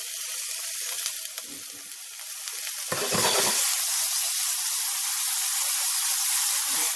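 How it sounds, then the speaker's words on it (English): Chopped bell pepper and other vegetables hit a hot pan and sauté, a loud, hissing sizzle that flares sharply when stirred midway and then settles into a steady, close crackle. "our pan is really hot, so I'll go ahead and drop it and lower our heat slightly because we don't want to brown our vegetables"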